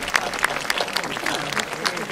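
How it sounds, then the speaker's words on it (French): An outdoor crowd at the inauguration of the Jacques Chaban-Delmas bridge in Bordeaux applauds the builders, a scattered mix of individual claps standing out over a murmuring crowd, with voices audible underneath. "Je crois qu'on peut les applaudir d'ailleurs pour cette belle réalisation."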